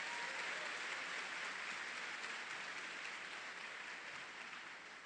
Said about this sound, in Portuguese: Dê também para Jesus uma forte salva de palmas